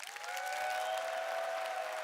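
An audience at a tech demo applauding on request, a dense wash of clapping swelling quickly and holding steady, with a few shouts or whistles riding over it.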